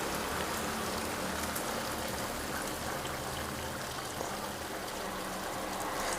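Water pouring into a pot of chicken stew, a steady dense splashing rush that continues evenly and loudly throughout without pause.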